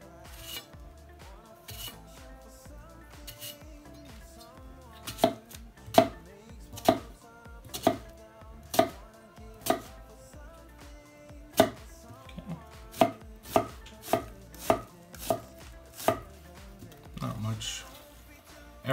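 IO Shen 240mm gyuto knife chopping through an onion on a cutting board, a run of crisp, sharp cuts, first spaced and then quicker, close and clear with no talking.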